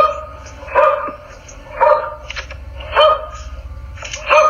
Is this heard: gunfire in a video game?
no